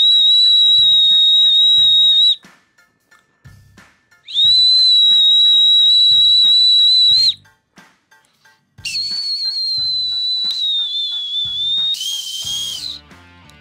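A referee's whistle is blown in long sustained shrill blasts, two steady tones with short gaps between them, then a slightly wavering blast and a brief higher burst, loud and close, with faint tapping in the pauses.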